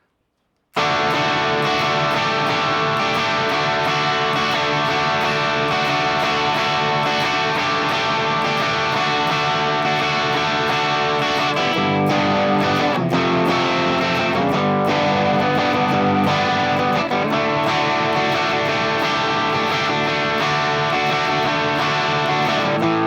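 A distorted electric guitar plays the repeating chorus chord progression of a song, loud and sustained, cycling through the same passage twice without any voices.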